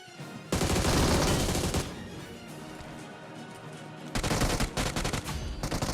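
Gunfire in the BGMI mobile battle game comes in two dense bursts of rapid automatic shots, loud and close, separated by a quieter stretch of lingering game noise.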